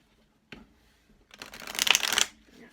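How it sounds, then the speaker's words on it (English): A deck of cards riffles quickly and crisply in one short burst, close up, after a single soft tap, with quiet surroundings. "Shuffling with your eyes closed is not an easy feat."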